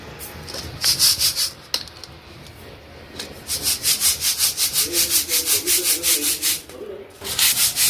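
Toor dal (pigeon pea lentils) is sifted and shaken to clean it, giving bursts of rhythmic scraping swishes, close and fairly loud, with short pauses between runs of strokes.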